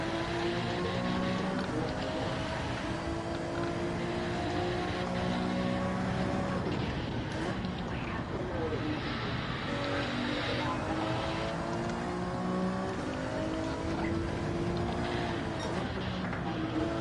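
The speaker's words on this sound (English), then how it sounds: "That Supra putting the power down pretty good." A Toyota Supra race car accelerates hard on track during a HECS championship race, a loud continuous engine roar with repeated rising pitch sweeps as it pulls through the gears.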